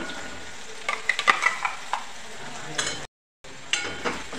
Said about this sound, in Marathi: 2 ते 3 मिनिटं वाटप तेलामध्ये परतून घेऊया।